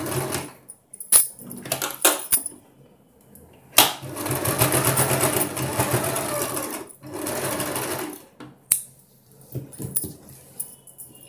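A sewing machine stitches blouse lining fabric in loud, steady whirring runs broken by short pauses and clicks, with a few quieter gaps and faint handling noises between bursts.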